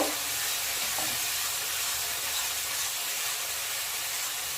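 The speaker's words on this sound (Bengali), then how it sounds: "পেঁয়াজটাকে 1 মিনিটের মতো হালকা ভেজে নেব।" Onions lightly frying in hot oil give a steady, even sizzling hiss that runs throughout without pause and with no talking.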